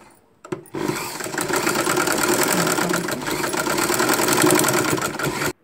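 A sewing machine hums at a loud, steady, close whir for about five seconds while stitching the finishing on a homemade nighty gown, starting and stopping sharply with no talk over it.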